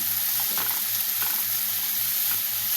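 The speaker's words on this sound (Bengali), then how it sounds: "এবার নেড়ে চেড়ে কষে নিচ্ছি" Boiled potato and papaya chunks are stirred and fried in a pan, giving a steady close sizzle with soft scraping stirs recurring roughly every second.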